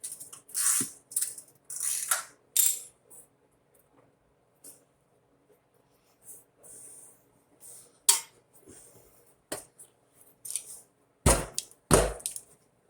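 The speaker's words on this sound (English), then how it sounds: "You take your wrenches, in this case it's a 17 and a 19, and just tighten everything back up." Wrenches, a 17 and a 19, tighten bolts on a Coleman BT200X minibike, making sparse, quiet metallic clicks and clanks with near-silent gaps between them and a couple of louder knocks near the end.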